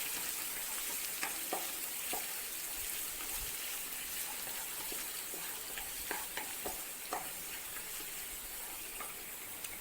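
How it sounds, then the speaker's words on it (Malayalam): Garlic sizzles in hot oil in a pan for a Chinese-style chilli beef dish, a dense steady crackle and hiss with scattered sharper pops and occasional stirring clicks, close and continuous. "ഓയിൽ ചൂടായി വരുമ്പോൾ ആദ്യം തന്നെ നമുക്ക് വെളുത്തുള്ളി ഇട്ട് കൊടുക്കാം."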